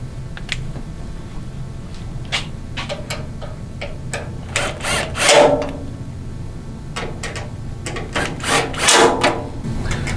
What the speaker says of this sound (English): And now we'll tighten those down.